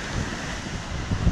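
Wind and crashing waves rush over the wet deck of a racing sailboat at sea during the Volvo Ocean Race leg from Lisbon to Cape Town, a constant loud roar with heavy microphone buffeting and a few low thumps.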